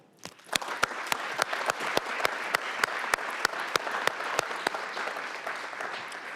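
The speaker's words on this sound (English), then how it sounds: "I'd like just to give a round of applause for all of our city workers" Audience applause for city workers at a State of the City address, a broad sustained clapping from a crowd with one sharp, regular clap standing out close by, rising quickly and holding steady.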